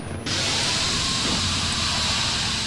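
Steam hisses in the horror video game Outlast, inside a sewer. After a brief quieter moment, a loud, steady, broadband hiss cuts in and continues without a break.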